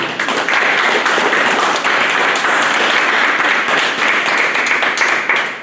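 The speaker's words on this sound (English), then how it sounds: "let's give a round of applause for the Plastc" Dense, sustained applause from a crowd, many hands clapping steadily throughout without pause.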